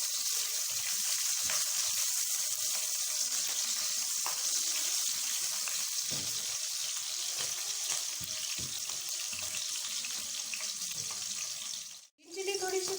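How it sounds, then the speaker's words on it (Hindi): Green chillies fry in hot oil alongside fatty keema, a constant dense crackle and hiss broken by scattered utensil knocks, with the sizzle dropping out sharply for a moment near the end before it resumes. "सबसे पहले इसमें मैं ग्रीन चिली डाल दूँगी।"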